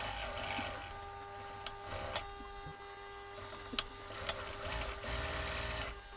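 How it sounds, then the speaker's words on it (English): A sewing machine stitches laptop sleeve panels together, playing sped up as a steady, fast mechanical whir and rattle with a few sharp ticks and brief pauses. "I'm not actually sewing that fast. Everything's sped up 4 times"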